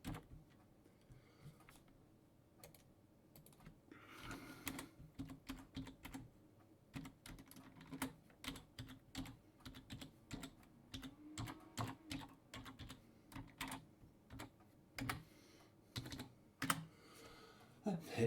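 Someone types a username and password on a computer keyboard, producing a long run of quiet, irregular key clicks in bursts against a faint background.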